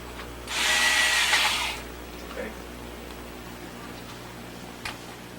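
A power screwdriver whirs for about a second while driving a screw into a Sega Genesis console, followed by quieter clicks and handling sounds.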